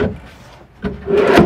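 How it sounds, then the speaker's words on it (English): Full-extension wooden drawers on metal ball-bearing guides in a 2010 Keystone Cougar 24RKS travel trailer slide with a short wooden rub and rumble. A soft slide is followed by a louder, longer glide that ends in a knock. "full extension drawers made out of wood with metal ball bearing guides for the hardware"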